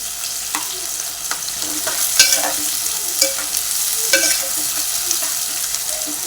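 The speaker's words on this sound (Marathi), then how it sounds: "तमालपत्र आणि दालचिनी ही परतून घेऊया मऊ होईपर्यंत" Onion, bay leaves and cinnamon sautéing in hot oil, with a steady close sizzle broken by repeated scrapes and clinks of a stirring spoon against the pan.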